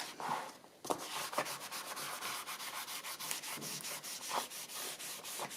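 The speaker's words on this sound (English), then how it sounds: "I need a piece of something dry just to rub over this." A dry piece of material is rubbed back and forth over a journal cover, giving a steady, close scratchy rasping with quick rhythmic strokes and no talking.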